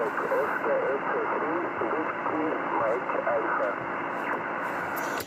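Weak amateur radio signal on the 10 metre band, a faint warbling voice buried in steady hiss and static, continuous throughout.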